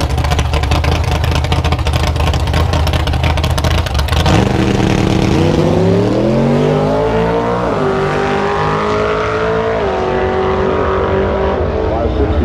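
A naturally aspirated five-second Ford Fairlane drag car makes a pass at Atlanta Dragway, its engine screaming loud and close, climbing through gear changes and then fading into the distance, with a voice heard faintly underneath.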